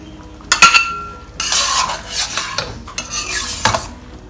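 A utensil scrapes and clanks around a wok as egg and tofu prawns are broken up and spread out, with several bursts of metallic stirring over a light sizzle.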